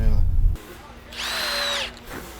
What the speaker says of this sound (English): That's a heavy drill.